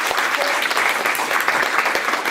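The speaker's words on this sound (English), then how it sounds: "Can we have a round of applause for these folks?" A community forum audience at an immigration event applauds, dense steady clapping filling the room at close range throughout, with no talk over it.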